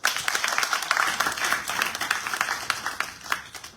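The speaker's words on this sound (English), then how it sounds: "Clap for myself." An audience at a national girls empowerment forum claps, with distinct, fairly loud hand claps pulsing unevenly across the moment, some individual claps standing out in the crowd.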